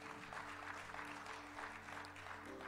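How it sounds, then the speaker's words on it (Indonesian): Church congregation applauding during a Sunday service, a soft, continuous patter of clapping with sustained music tones humming underneath the whole time. "Beri tepuk tangan bagi Tuhan."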